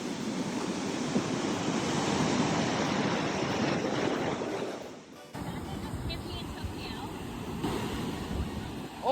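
Ocean waves break and wash up on a beach in Mexico around sunset in a continuous roaring surf, with wind buffeting the microphone and a brief dip in level midway.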